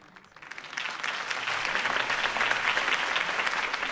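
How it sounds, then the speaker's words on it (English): Applause from a crowd at a political campaign speech in a Batman video game swells from scattered claps into a sustained, dense ovation, moderately distant and steady. "If only Mr. Wayne, my campaign's largest backer, could have heard that applause"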